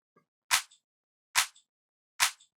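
A shifted clap sample plays on its own for a track, three short, crisp, bright clap hits spaced evenly about a second apart, close and dry with no other sound.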